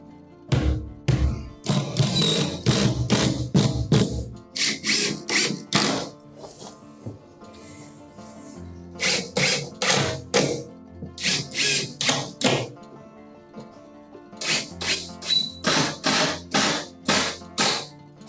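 A power drill drives short screws into plywood while stair supports are fitted in a new build. It fires in quick clusters of sharp, buzzing bursts, each run of several short pulses separated by brief pauses.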